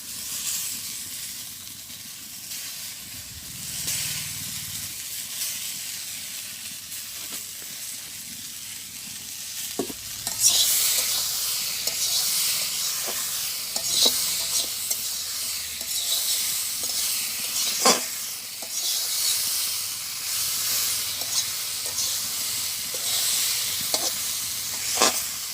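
Fish and long beans fry in a pan for a village home-cooked dish, with steady sizzling hiss that grows louder about halfway through, and scattered scraping stirs and clinks over it.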